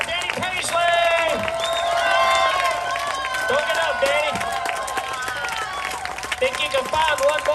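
Audience applause and cheering for a bluegrass musician at the Rimington Ryde 2024 show, a steady wash of crowd clapping running under someone talking and bright instrument tones.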